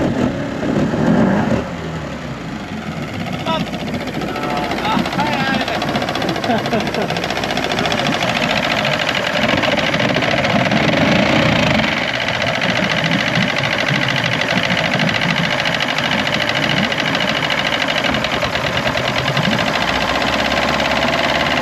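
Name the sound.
boat outboard motor idling out of gear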